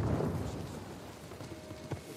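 Storm in Uncharted 4: a quiet, steady wash of rain with a low thunder rumble at the start fading under the downpour, a faint distant backdrop with no voices.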